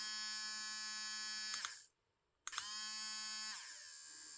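A cheap Aridoo rotary tool from China running at its third speed gives a steady high-pitched motor whine. It cuts out briefly, restarts with a click and keeps whirring, dropping slightly in pitch near the end.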